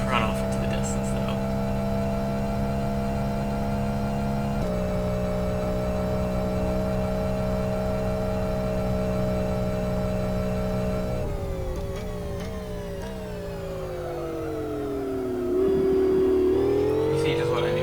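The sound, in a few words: GT3 race car engine in racing video game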